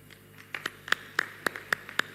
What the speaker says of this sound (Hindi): अयोध्या इतनी कमजोर नहीं है, तालियां बजती रहनी चाहिए।